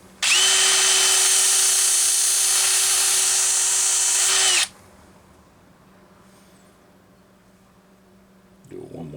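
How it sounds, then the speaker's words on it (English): A battery-powered drill works on a Homelite XL chainsaw during a carburetor hose repair. It gives one loud, steady high-pitched whir for about four seconds, then stops abruptly, leaving a quiet background and a brief noise at the end. "We're going to use our battery-powered drill to work our way down there."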